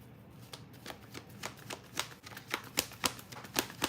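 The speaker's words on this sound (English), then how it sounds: "Let me pull a card real quick." Tarot cards being shuffled by hand, a run of crisp, evenly spaced riffling snaps that get louder and sharper toward the end, with no one speaking.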